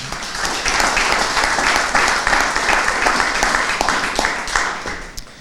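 An audience at a local election candidates' event applauds a candidate, a steady, full round of clapping heard close and loud that holds evenly before tapering off at the close.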